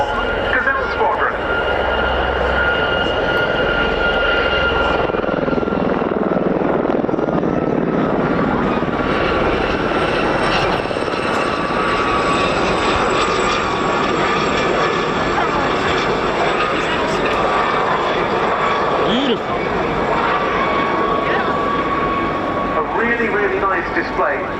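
Gazelle helicopters of the 2024 Gazelle Squadron flying a display break at an RAF Cosford air show, a loud sustained rotor and turbine roar with shifting whine that holds for the whole stretch, with a commentator talking over it.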